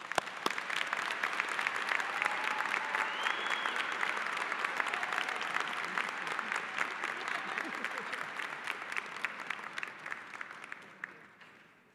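A high school commencement crowd applauds the superintendent, sustained dense clapping with a few whoops, fading out near the end.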